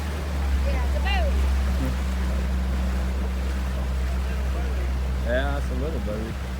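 A Yamaha motorboat drones low and steady on Tellico Lake, with wind buffeting and water noise throughout, while people chat over the engine.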